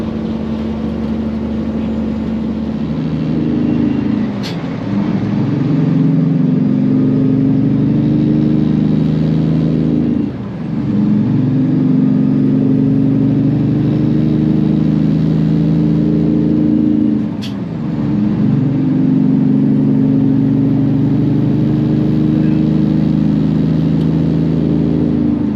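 A Peterbilt truck hauls a load along a wooded road, its engine droning steadily and loudly from inside the cab, with periodic dips as gears shift and the pitch climbs again.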